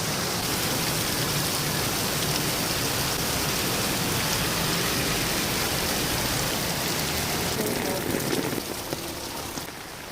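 Heavy rain pours down in a dense, steady roar that eases slightly at the very end, in a flooded area.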